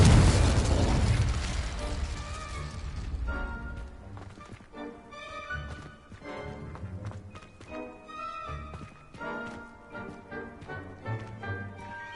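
The Confringo spell in Hogwarts Legacy bursts with a loud, booming explosion that fades over a couple of seconds. Lighter clattering and popping effects follow in a busy, irregular pattern.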